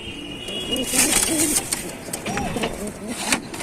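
Domestic pigeons kept for sale in a loft in Tanta, Egypt, coo in soft repeated rolling calls at close range, with wing flutters and a busy background murmur.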